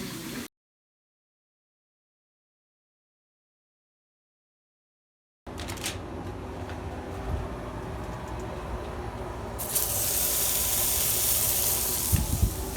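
Hamburger patties sizzle on a griddle in a little olive oil. Steady close hissing starts after a silent gap and grows brighter and louder toward the end.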